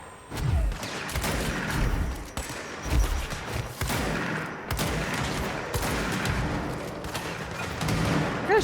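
Gunfire in the action game Control: rapid bursts of shots and heavy thuds repeat throughout, loud and close, with busy in-game effects filling the gaps.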